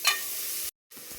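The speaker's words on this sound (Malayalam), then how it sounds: "സവാളയും കൂടെ ഇടാം. ഒന്ന് വാടി വരട്ടെ." Onions sauté for a village-style chicken curry, a bright close sizzle that runs briefly, cuts out to silence, then returns more softly.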